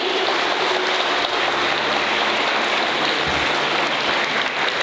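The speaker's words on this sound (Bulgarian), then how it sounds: "Аплодисменти!" Audience applause at a fashion show in a cultural centre after a poem is recited, a steady, dense wash of clapping that stays loud and even for the whole stretch with no voices on top.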